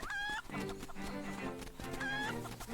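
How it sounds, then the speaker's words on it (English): Two bright chicken clucks from Link's Awakening, one at the start and one near the end, sit loud over dense in-game music. "And then we throw the chicken right when we go past that leaf there."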